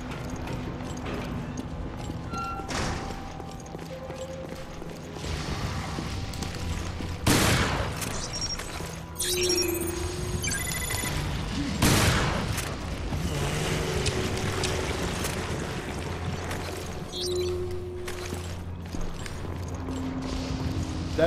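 Shotgun blasts in the video game Resident Evil Revelations, several loud broadband bursts spaced a few seconds apart over a dense backdrop of game ambience and sea-like noise.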